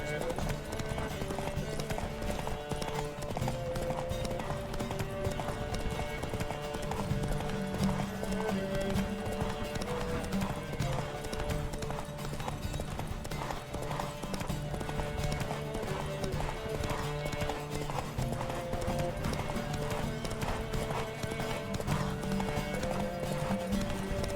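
Horses gallop in a race in The Witcher 3, a dense, continuous clatter of hooves running under a layer of game music, with occasional whinnies and brief voices.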